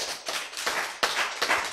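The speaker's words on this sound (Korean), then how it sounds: "박수!" Audience at a Korean lecture clapping in unison, about four sharp, evenly spaced bursts of applause, loud and close.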